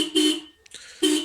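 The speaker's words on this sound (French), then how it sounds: "les klaxons sont malades." Feeble horn of a Kawasaki ZZR motorcycle with a flat battery, sounding two short, thin honks separated by a brief pause, close and fairly loud.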